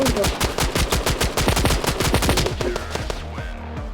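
Rapid bursts of automatic gunfire in a video game, dense and loud, with individual shots rattling in quick succession before tapering off near the end.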